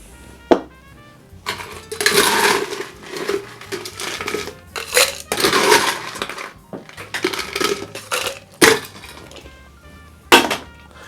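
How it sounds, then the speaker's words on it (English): Cocktail being shaken hard with ice in a large shaker: loud, rattling bursts of ice against the tin in several vigorous rounds, close and alone with no talking. "Give this a really hard shake."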